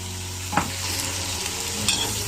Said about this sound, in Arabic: شوحها كويس جدا